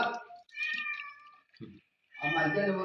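A cat meows close by, drawn-out cries that break off, with bits of a person speaking at the start and end.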